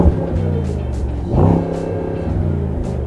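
Mercedes-AMG SL sports car idling with a deep engine rumble, then a brief rev that is held back by the limiter before it settles back to idle, heard close up.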